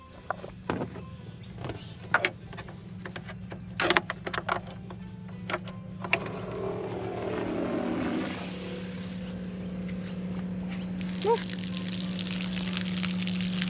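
Fresh water pours from a hose into a caravan's water tank at a free campsite, a steady rushing flow with a constant low hum that builds and persists after scattered knocks and handling clatter early on, close by with no talk.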